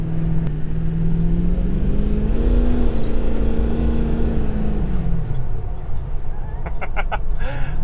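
A 6.0 Powerstroke diesel truck engine under heavy load with a rising, sustained whistle from a large turbo that climbs in pitch, then fades as the engine winds down.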